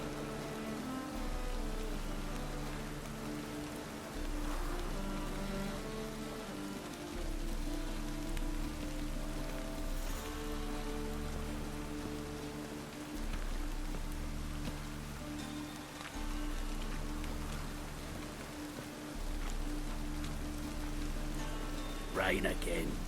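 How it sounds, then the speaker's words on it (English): Steady rain in The Witcher 3 falls in a continuous wash across the whole stretch, with a low game ambience and droning musical tones layered beneath it. "Rain again."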